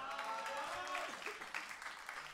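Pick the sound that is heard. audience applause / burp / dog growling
audience applause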